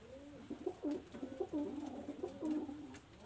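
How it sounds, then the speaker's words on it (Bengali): A pair of Shiyalkuti pigeons, male and female, coo softly and close by in a series of repeated low, throaty calls with brief gaps between them. "এটা ফিমেল কবুতর, শিয়ালকুটি ফিমেল কবুতর, এবং এই হলো নর কবুতরটা,"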